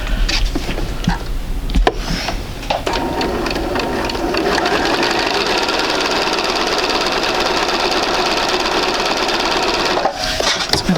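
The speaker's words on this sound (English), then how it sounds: "we're going to take that over and sew that at 1/4 inch" A sewing machine stitches quilt pieces at a quarter-inch seam in a steady, close, continuous run with a brief pause partway through and short handling noises at the start and end.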